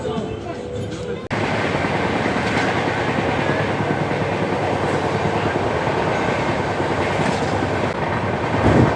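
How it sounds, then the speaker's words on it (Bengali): The 12857 Tamralipta Express from Howrah to Digha at Uluberia station, recorded from aboard as a steady, loud rolling rumble of the train with faint wheel clatter after a brief quieter start, no clear talk. "এখন আমাদের এই ট্রেন পৌঁছে গেছে তার যাত্রাপথের দ্বিতীয় স্টেশন উলুবেড়িয়াতে।"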